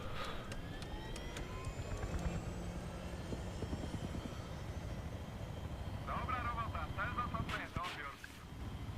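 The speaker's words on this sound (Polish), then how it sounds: "dopiero się uczę jak tutaj latać na tych helikopterach" A helicopter in Battlefield 3 flies with a steady rotor and engine drone, joined by game effects and chirping tones, while someone talks over it.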